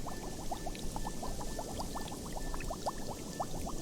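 Tomato mixture poured into a large skillet over medium heat in a cooking video game, giving a steady wet pouring and bubbling patter that runs throughout with no talking.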